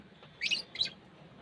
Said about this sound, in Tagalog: tingnan mo na yung mga ibon na yan. Itong African bird.